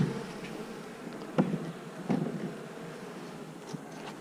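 Honey bees from an opened hive humming faintly and steadily, with a few brief louder knocks and handling bumps nearby.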